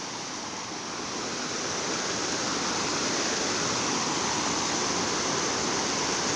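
At Bangon Falls, a waterfall and fast rushing water make a dense, unbroken roar that holds steady and fairly loud throughout, with no voices over it.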